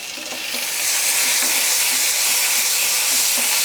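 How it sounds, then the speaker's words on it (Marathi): Onion, cucumber and tomato sauté in a hot pan, giving a loud, dense, continuous sizzle that swells in the first second and holds steady, close by with no talking. "हे सगळं एकत्रित आता आपल्याला एक ते दीड मिनिट परतायचं आहे"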